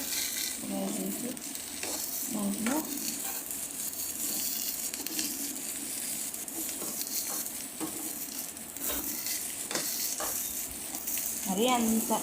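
Frying in a pan while preparing jowar roti with field beans: a steady, close sizzle runs throughout, broken by occasional stirring scrapes and light clinks of utensil on the pan.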